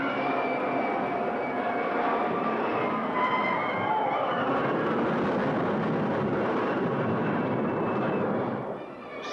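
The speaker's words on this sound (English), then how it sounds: "Supersonic jets cannot catch him." Loud continuous roar of a supersonic jet aircraft flying past in a monster movie trailer, a sustained broadband rush with a slight swell midway that drops off at the end.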